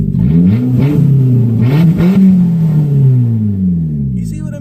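A Nissan Sentra engine revs loudly and close, pitch climbing and falling in several quick throttle blips before settling into a long falling sweep, with a faint voice briefly underneath.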